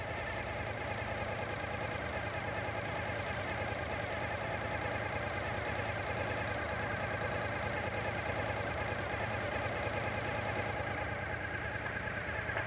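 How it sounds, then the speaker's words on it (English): Suzuki TL1000S motorcycle engine idling steadily at about 1200 RPM, a continuous even drone with no breaks and no voices. "you always want to keep the idle set to spec, which again on this model is 1200 RPM"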